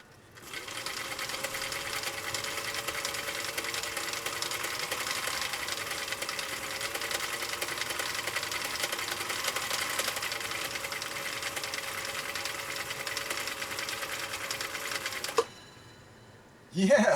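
A Husqvarna Viking CI 21A sewing machine stitching with cam D runs at a steady, fast, even whir for about fifteen seconds, then stops abruptly. A brief sound follows at the end.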